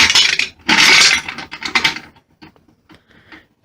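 Vintage King Carousel gumball machine mechanism turning, a loud close-up clattering churn of metal parts and rattling gumballs followed by a series of lighter clicks and clinks as it settles, no talking.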